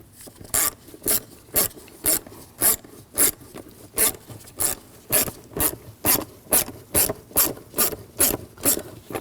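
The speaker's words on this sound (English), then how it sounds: "Use a 6mm socket. Loosen up that clamp." A ratchet fitted with a 6 mm socket loosens a hose clamp on a 2007–2013 BMW 328i 3.0L inline-six, steady evenly spaced bursts of close clicking pawl ratcheting, about sixteen strokes, with no talk.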